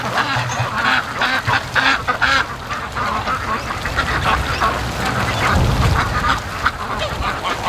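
Ducks quack and honk in a busy flock near a lake, dense overlapping calls at close range under steady wind noise, with no talking.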